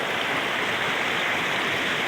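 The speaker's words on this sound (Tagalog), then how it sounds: "So yan, laking ilog." A large river's rushing water roars steadily close by, a dense, continuous white hiss with no voices.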